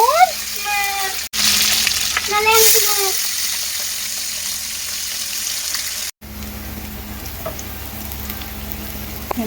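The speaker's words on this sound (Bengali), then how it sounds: "কারি পাতা আর পেঁয়াজ দিয়ে ভাজছি" Curry leaves and onions frying in a pan, a steady broadband hiss of sizzling oil running through most of the stretch, with brief breaks and some voice-like tones riding over it.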